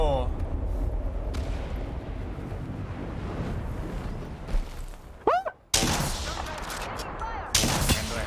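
Heavy gunfire in the Apex Legends video game, a dense, continuous barrage of shots close up, broken by a brief pause and then sharp loud bursts, with someone talking over it.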